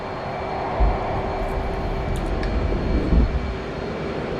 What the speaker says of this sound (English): Go afterburner.